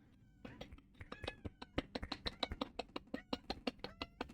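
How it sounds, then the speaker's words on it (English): A house cat meows again and again in a quick run of short, close, fairly loud calls, with faint background noise between them. "you can hear my cat"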